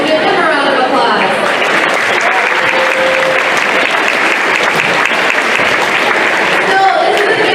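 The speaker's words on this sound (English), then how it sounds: "so give them a round of applause." A school gym crowd at a high school boys basketball game claps loudly and continuously, a dense wash of applause with faint cheering and a brief whistle near the start and end.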